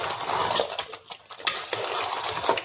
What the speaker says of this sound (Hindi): अब इसको अच्छे से भून लेंगे